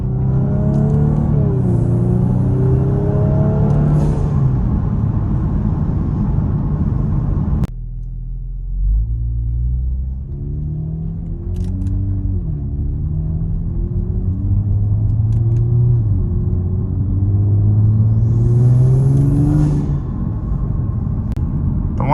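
A modded Kia Stinger GT, heard from inside the cabin with the windows up, rumbles loudly through repeated rising revs as it accelerates through the gears, with brief turbo whooshes.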